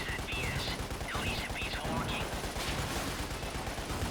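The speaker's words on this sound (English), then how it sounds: "Just shoot these towers so you can get some thermal energy." Rapid gunfire rattles through a dense, loud mix in the video game Lost Planet as towers are shot. Whistling and whooshing game effects layer over the shooting for the whole stretch.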